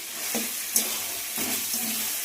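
Food frying in a pan in a Bengali home kitchen, a steady close sizzle with brief bursts of stirring or scraping and one sharp click, continuous throughout with no talking.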